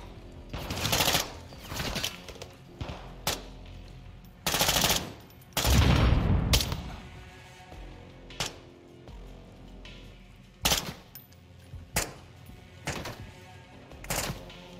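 Sharp gunfire bursts from a weapon in the Modern Warfare 2 campaign, coming as short, loud volleys and single cracks separated by brief pauses across the stretch, with no talk.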